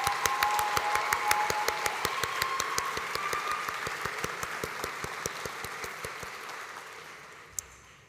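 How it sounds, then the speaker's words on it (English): Audience applause at a Melbourne Polytechnic graduation ceremony, a dense steady patter of many hands clapping that gradually thins and fades out over several seconds. "Please join me, everyone, in giving Juno another round of applause."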